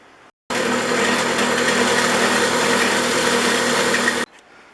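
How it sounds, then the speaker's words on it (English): A wire wheel scrubs rust off small parts from a Stanley No. 60 low angle block plane, a loud, steady whirring roar that starts abruptly, holds for about four seconds, then cuts off. "And then it's over to the wire wheel."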